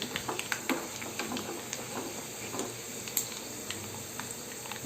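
Garlic and curry leaves frying in a pan for a mango dal, a steady close sizzle with light crackles and occasional stirring scrapes, no voices.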